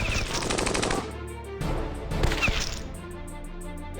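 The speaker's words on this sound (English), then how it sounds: "Anti-air cannon." Anti-air cannon in the game Battle Nations firing a rapid burst of heavy, booming shots, with dense repeated impacts and a few sharper blasts standing out over a loud continuous barrage.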